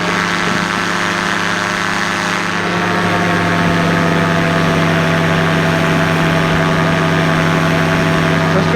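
A powered parachute trike's engine runs loud and steady nearby, its propeller drone holding an even pitch throughout with a slight rise partway through.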